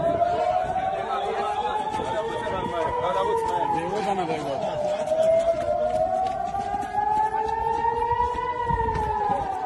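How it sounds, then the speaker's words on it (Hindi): Civil defense air raid sirens wail through an Israeli city street, a loud, continuous rising-and-falling tone layered with echoes, over the murmur of people and footsteps. "जब वो इजराइल के एक शहर में थे तभी सायरन बजने लगे, जिसका मतलब था कि कोई हमला होने वाला है"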